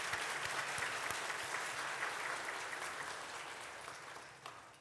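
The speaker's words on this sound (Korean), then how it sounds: "박수로 격려 한번 하도록 하겠습니다" A church congregation at a joint worship service marking Korea's 77th Liberation Day applauds in a steady, dense wash of clapping that fills the hall, fairly distant and even, tapering slightly toward the end.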